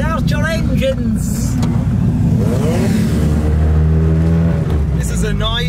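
Toyota AE86 car engines rev loudly and repeatedly at a car gathering, pitch climbing and dropping in throaty surges, close by with a continuous roar throughout.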